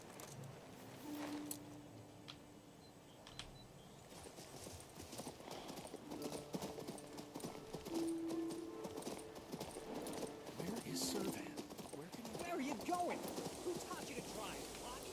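Horse hooves in King's Bounty II clip-clop in a quiet, steady walking rhythm over a faint rain-like patter, with a few soft tonal chimes drifting through the background.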